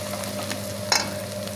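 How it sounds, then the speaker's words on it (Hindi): Garlic paste sizzles steadily in a hot pan while cooking a chicken crispy roll filling, close and constant, with a brief stir or scrape near the middle and no talking. "1 चम्मच डालेंगे लहसुन का पेस्ट। हल्का सा इसे फ्राई करेंगे।"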